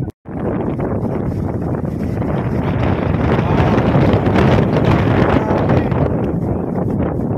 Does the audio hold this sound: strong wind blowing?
yes